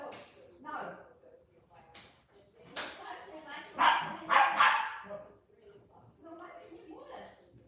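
A dog being trained indoors barks in several sharp bursts, loudest midway, mixed with whimpers and yips, close by, with people talking around it.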